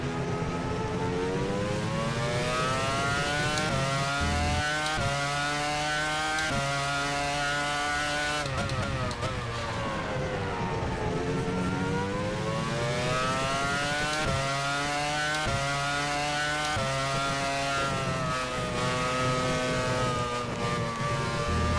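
A McLaren MP4/20 Formula 1 car driven in the rFactor racing game, its engine screaming at high revs without a break, pitch climbing through the gears, dropping under braking and rising again, loud and close.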